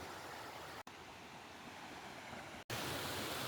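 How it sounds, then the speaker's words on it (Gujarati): Water rushes and splashes continuously near Khodiyar temple at Bharoli, a steady broadband roar heard close and alone, with two brief dropouts. "પાણી ઉપરથી ખખ અવાજ આવે છે."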